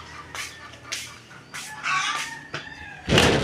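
Chickens being fed cluck and call in a run of short, close bursts, with a louder squawk near the end and no talking.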